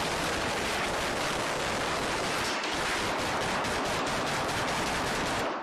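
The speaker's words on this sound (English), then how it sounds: "what kind of gun was that, my boy? Was that an automatic gun?" Continuous dense crackle of rapid gunfire, sustained and loud throughout with no pauses, like distant automatic weapons firing in long bursts.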